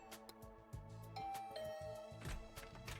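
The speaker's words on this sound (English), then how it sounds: "I rang the doorbell and waited" A doorbell chimes in The Hundred Line: Last Defense Academy, a bright two-tone ding-dong standing out over a steady game soundtrack, with a second held chime tone following.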